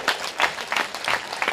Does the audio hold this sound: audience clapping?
yes